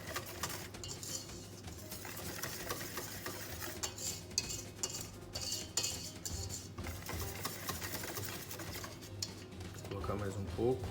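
Marble cake batter is stirred as sifted flour is added little by little, a continuous soft scraping and slapping in a bowl with occasional utensil clinks and a murmuring voice underneath.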